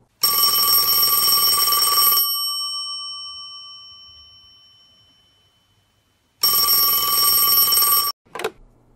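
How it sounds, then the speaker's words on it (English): An old-style phone bell rings loudly for two seconds, decays slowly into silence, then rings again in a second long burst. "Then, the phone rang."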